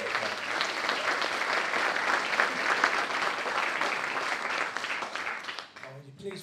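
An audience at a live jazz orchestra concert applauds steadily and fairly loudly for several seconds before the clapping tapers off near the end.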